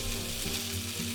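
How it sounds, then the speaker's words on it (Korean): Meat searing in hot oil in a cast-iron pan, a steady close sizzle and crackle throughout with no talking. "팬에 뜨겁게 달궈지면 오일을 살짝 뿌리고 고기를 구워주겠습니다"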